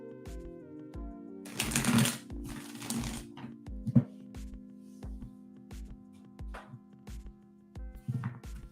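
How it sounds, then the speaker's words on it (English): A thick tarot card deck being shuffled, with bursts of riffling and crackling card noise near the start and again at the end, separated by quieter handling and a steady low hum underneath. "This deck is so difficult to shuffle all at one time because it's like the cards are like a lot thicker than normal."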